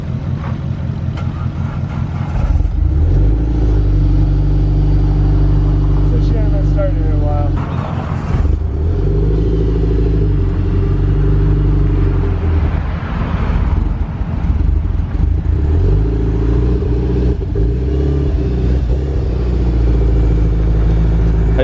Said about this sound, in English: Nice mild exhaust. It's not too loud.